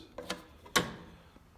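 A strap clicking into place on a compact Titanium Easy Flux 125 flux welder, two or three small sharp plastic clicks close up, the last one loudest, in a quiet room.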